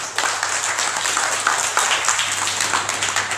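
Steady applause from an audience at a consulate gathering in Naples, dense continuous clapping held at an even level throughout, with a low steady hum underneath.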